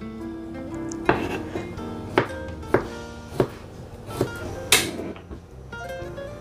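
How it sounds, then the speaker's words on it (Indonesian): A knife chops tomatoes on a cutting board for green-chili pindang, a series of distinct sharp thuds at a loose, irregular pace, close and clear in a quiet kitchen. "Tomat juga dirajang saja."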